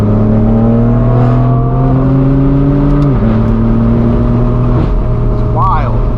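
A straight-piped BMW M4 F82 exhaust drones loud and close at full throttle, its pitch climbing steadily, dropping with quick shifts and rising again, with faint speech underneath.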